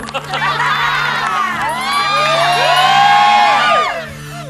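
A studio audience at a Thai TV quiz show cheers loudly, with high excited shouts and whoops rising together, swelling to a peak and then tapering off.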